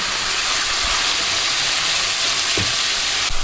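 Sliced carrot and chopped cabbage sizzle steadily in a hot pan for chicken hot and sour soup, a loud, continuous frying hiss with a few soft clinks of stirring near the end.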